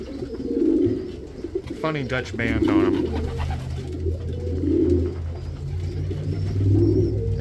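Pigeons coo in a loft, their soft, repeated low calls coming in a steady rhythm close by while someone talks over them.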